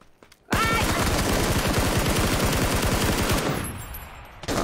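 MG3 machine gun firing in a video game, a loud sustained burst of rapid automatic fire that cuts off abruptly, leaving a brief fading tail.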